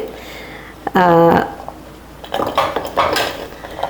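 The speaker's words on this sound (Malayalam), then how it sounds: "ഒരു പാനിലേക്ക് നമുക്ക് ആവശ്യത്തിന് കഷ്ണങ്ങളൊക്കെ ചേർക്കാം" Chopped yam, plantain and vegetable pieces tumble into a pan with a short clatter of metal and pieces, followed by lighter scraping and clinks, with voices around.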